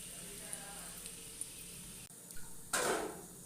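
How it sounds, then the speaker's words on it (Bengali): Cinnamon and a bay leaf drop into hot oil in a kadai, bursting into a bright sizzle near the end after a quiet stretch of faint kitchen noise. "এর মধ্যে দিয়ে দিচ্ছি দালচিনি আর একটা তেজপাতা"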